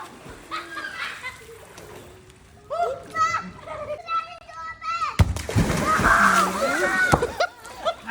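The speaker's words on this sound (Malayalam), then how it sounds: "ചെറുപ്പം വെള്ളത്തിൽ ഇറങ്ങിയിട്ടുണ്ട്" Children splash and play in a small resort swimming pool beside a lagoon, with bursts of sloshing water and excited young voices, and a nearby adult talking over the scene.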